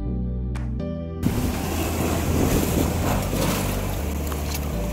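Strong sea water surges among coastal rocks on the Ratnagiri Konkan shore, a loud continuous rush of churning waves and wind buffeting the microphone, rising sharply after a brief low rumble at the start.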